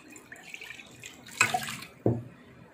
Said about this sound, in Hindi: एक गिलास और पानी डाल लेते हैं।